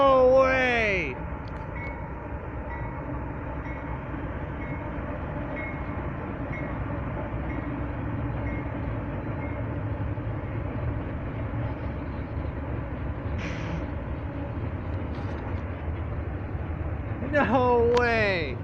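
A Southern Pacific locomotive hauls a train past a railfan, a steady rumbling roar with rail noise running the whole time and brief squealing tones near the start and end.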